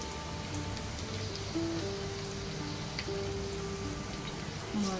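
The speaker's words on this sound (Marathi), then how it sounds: "आता हे पहा ही मांदेली आपल्याला ही तेलात सोडायची" Mandeli fish sliding into hot oil with garlic in a frying pan, giving a steady, dense sizzle and crackle throughout, close and fairly loud, with faint tonal sounds behind it.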